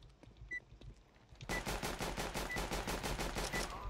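Rapid automatic gunfire bursts out in a fast, even rhythm from a weapon in the video game CS:GO on the Dust2 map, loud and close after a quieter start.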